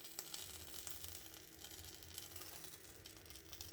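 Hair sizzling under a hot styling tool during a hair product test, a faint, steady crackling hiss that runs without a break.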